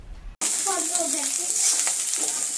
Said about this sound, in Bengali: রাইস ফ্রাই করছে আজকে নাজমা।